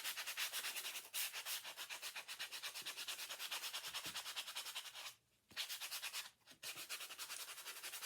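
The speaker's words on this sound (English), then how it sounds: "now I'm going to just distress this one by taking my sanding block and just going over the edge." A sanding block rubbed rapidly back and forth along the edge of a small Halloween craft piece, close and rhythmic, with two brief pauses between runs of strokes.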